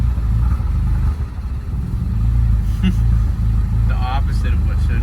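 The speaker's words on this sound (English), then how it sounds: "What happens if you try to give it a little gas?" A Ford Focus ST with its clutch being bled gives a low, steady engine drone that rises slightly, under nearby people talking.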